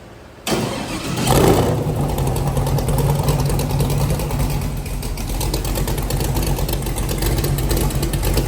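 Old fuel-injected car engine cranks, catches and settles into a loud, steady idle close by, running on alone without talk.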